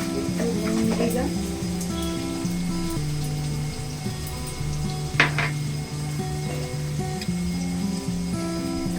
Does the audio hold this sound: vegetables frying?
yes